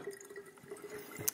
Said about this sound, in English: What I'll do now is just fill up the rest of the jar